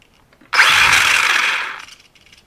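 Xinlehong Q903 RC car motor accelerating on sand tires, a loud, close, high whine that starts abruptly, holds for over a second, then fades out.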